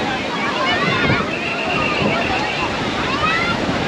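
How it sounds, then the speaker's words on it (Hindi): Strong sea waves surging and crashing at Manora Beach, a loud rushing roar with wind buffeting the microphone, while people talk over it. "सामने लहरें देखे कितनी तेज़ है"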